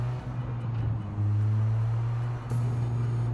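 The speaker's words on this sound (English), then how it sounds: "But listen to the car, man." Steady car engine at low speed in an old Test Drive-style driving video game during a taxi mission, a continuous low hum with a slight shift in pitch partway through, heard alone.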